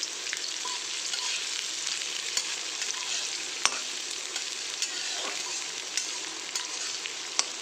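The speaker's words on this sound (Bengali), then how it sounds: "এবার তাতে আমি ভেজিটেবলসগুলো আছে সেগুলো ছেড়ে দেব। এগুলো একটু হালকা করে ভেজে নিতে হবে।" Vegetables being fried in refined oil in a kadai for fried rice, a loud continuous sizzle broken by regular scraping and clattering stir strokes, close up and without talk.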